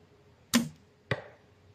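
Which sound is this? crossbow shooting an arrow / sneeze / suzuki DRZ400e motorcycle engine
crossbow shooting an arrow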